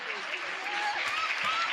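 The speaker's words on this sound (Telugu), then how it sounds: "చప్పట్లు కొట్టి దేవుని మహిమపడతాం." Church congregation clapping to glorify God during a sermon, a fairly soft, continuous patter of many hands with a faint murmur of voices underneath.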